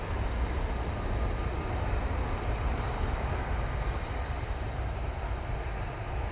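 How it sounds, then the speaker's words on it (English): A departing airliner at Manchester Airport roars as a steady, broadband jet rumble, loud and unbroken throughout, with no voices over it. "Do have a departure coming on in front of us."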